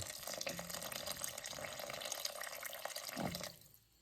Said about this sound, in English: 2 cups of water, hot water.